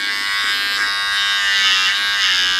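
A cordless hair trimmer switches on and runs with a steady, close, high-pitched electric buzz, holding evenly for a couple of seconds with slight wavering and no voices.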